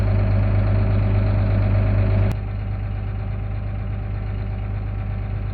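A New Holland 8770 tractor, a troublesome unit, idles with a deep steady diesel rumble close by; partway through the engine note drops abruptly to a lower, softer idle after a sharp click, running on alone.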